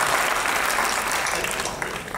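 An audience at a Hindi comic poetry gathering in Surat claps steadily, a thick continuous wash of applause that stays loud and even from start to finish.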